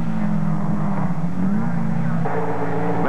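Race cars at the 1963 Road America SCCA USRRC race sweep through the carousel turn, their engines a steady, close drone that shifts pitch partway through.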